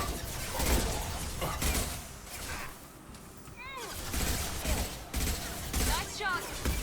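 Bursts of gunfire from the video game Mass Effect 2, several loud volleys separated by brief lulls, with electronic whooshing effects and a voice speaking between shots.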